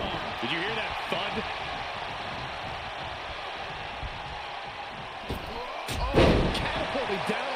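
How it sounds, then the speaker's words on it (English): A forearm strike in a wrestling video game lands as one heavy, booming thud near the end, rising above a constant wash of arena noise while someone talks over the action. "Wicked forearm. Did you hear that thud?"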